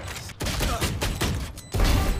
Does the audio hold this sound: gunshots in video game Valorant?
yes